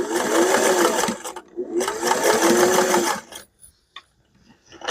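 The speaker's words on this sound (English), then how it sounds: "going to sew over my starting stitches anyway" A sewing machine stitches a quilt block for an inset circle, running in two close, rapid bursts with a short pause between, then stopping into near silence.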